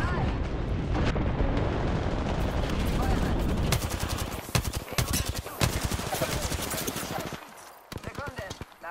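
An airstrike in Apex Legends brings dense bursts of rapid gunfire and heavy booming explosions, loud and close, with the barrage thinning into sharp scattered cracks toward the end.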